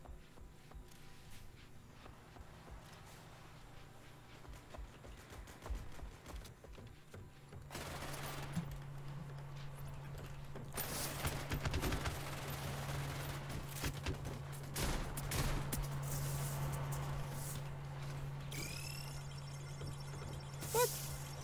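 A shotgun fires repeatedly in the video game WorldBoss, with loud separate blasts over a steady low game hum, mixed with other shots and footsteps.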